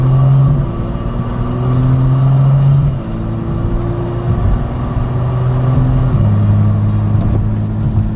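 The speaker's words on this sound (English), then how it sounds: "The shifting is unreal, how fast it happens." A BMW F30 with an automatic transmission in Sport Plus mode accelerates loudly and steadily, its engine note dropping abruptly at quick upshifts, about three times in a row, with no one talking.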